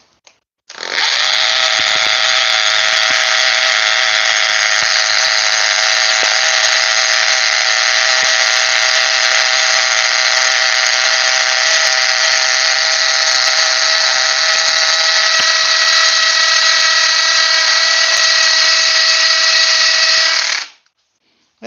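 A Bosch rotary hammer drills for about twenty seconds in one continuous, loud, steady high-pitched whine, starting and stopping abruptly, close by and heard alone without talk.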